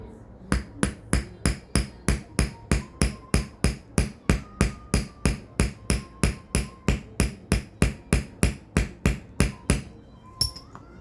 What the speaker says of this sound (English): Now we have to hammer this down.